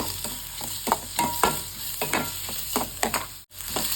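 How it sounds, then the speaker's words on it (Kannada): Sliced onions fry in a pan for a mushroom gravy, a continuous sizzle broken by repeated scraping stir strokes at a brisk, uneven rhythm, close and fairly loud, with no talking. "ಈರುಳ್ಳಿ ಚೆನ್ನಾಗಿ ಫ್ರೈ ಮಾಡ್ಕೊಳ್ಳೋಣ. ಇದು ಫುಲ್ ಫ್ರೈ ಆಗಬೇಕು ಈರುಳ್ಳಿ, ಅದಕ್ಕಿಂತ ಚೆನ್ನಾಗಿ ಫ್ರೈ ಮಾಡೋಣ."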